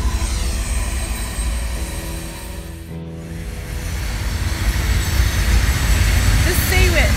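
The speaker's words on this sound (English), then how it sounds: "Here comes the train." A train rumbles past close by, a steady low roar that swells louder toward the end, with voices in the background.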